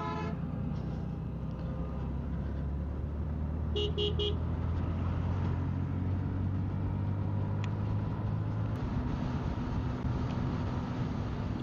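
Bus traffic on a rainy motorcycle ride toward the Kuakata seaside: a steady engine and road drone with a brief cluster of horn toots partway through as vehicles pass nearby.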